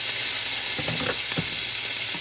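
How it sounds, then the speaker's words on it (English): Olives sizzle loudly in a hot sauté pan, a constant bright frying hiss with a few bursts of stirring and spattering in the middle. "More sizzle."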